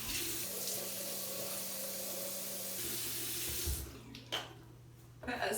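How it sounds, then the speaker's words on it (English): Bathroom sink tap running steadily while a face is wetted, a constant water stream with low hum, then splashing and dripping as the flow cuts off and hands move. "You get your face wet."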